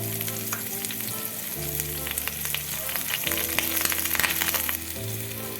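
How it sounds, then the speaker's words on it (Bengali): Chopped onions, four medium ones, sizzle steadily in hot oil while being stirred in a pan, a continuous close frying hiss punctuated by scraping stirs, with no talking. "এবার আমি পেঁয়াজগুলোকে খুব ভালোভাবে নেড়েচেড়ে ভেজে নেব।"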